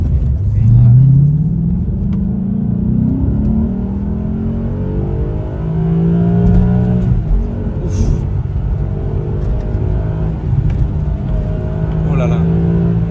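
A 20-year-old Maserati GranSport with paddle shifters revs hard inside the cabin, its engine pitch rising and dropping with each gear change under a steady loud rumble while people talk.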